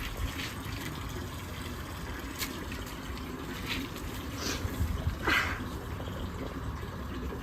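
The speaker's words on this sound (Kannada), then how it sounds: "ನೀರು ಹಾಕಿ ಕ್ಲೀನ್ ಮಾಡೋದಲ್ವಾ?" Water poured across a rooftop for cleaning, a steady close splashing and gushing wash with a few brighter spurts along the way.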